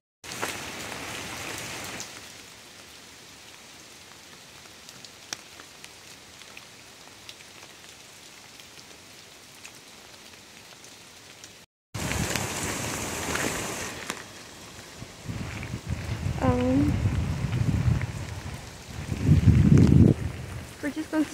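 Steady rain falls on a wet outdoor trail in New Zealand during a walk, a dense continuous patter that gives way to a louder, closer stretch with brief voices and movement near the end.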